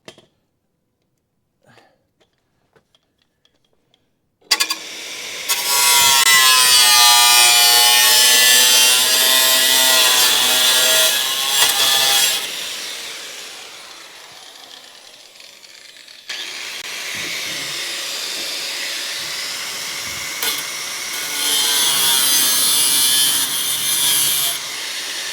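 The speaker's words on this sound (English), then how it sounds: "Where's the big boy? Grinding wheel." A grinding wheel cuts metal on a Crew Cab Charger restoration: a loud, whining abrasive roar starts abruptly, runs for several seconds, eases off, then returns in a second long burst.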